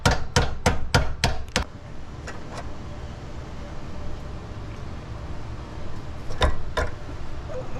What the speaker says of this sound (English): was able to get away with just using the rubber mallet.